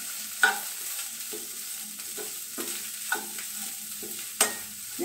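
Corn masala with pepper powder and chat masala gets stirred in a pan, soft spoon scrapes and taps recurring every second or so over a quiet, low sizzle.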